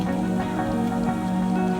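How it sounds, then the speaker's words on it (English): Light rain just beginning to sprinkle outdoors on a boat trip in the Kimberley, a soft continuous patter with a steady low hum beneath it and no voices. "And it's just started sprinkling."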